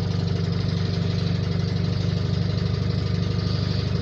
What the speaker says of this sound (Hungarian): Most fog még pörögni is egy kicsit a motorja, jobban fel fog pörögni